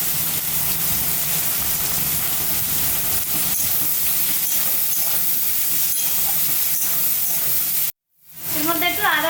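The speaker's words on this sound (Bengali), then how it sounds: "এর মধ্যে পেঁয়াজ আর কাঁচা লঙ্কাটা দিয়ে দেব।" Onion and green chilli frying in hot oil make a loud, continuous close-up sizzle and hiss that cuts out abruptly near the end, then returns with a brief clatter.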